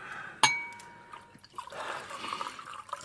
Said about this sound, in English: Top up the fellow's glass.